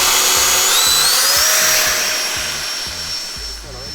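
A loud, close, rising whine of a Freewing T-33 Luftwaffe model jet with an 80mm electric ducted fan spooling up for takeoff, its pitch climbing and then fading slightly as it leaves, with a voice heard briefly underneath.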